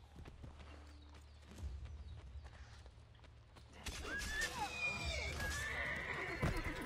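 A horse in Assassin's Creed Brotherhood whinnies loudly and then clip-clops, with hooves striking in a quick rhythm over a low game soundscape, and someone talks in places.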